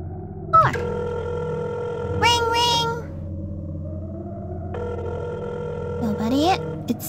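A telephone rings in the video game Alchemillia, a steady electronic tone that repeats across the clip, with a voice briefly heard over the ringing.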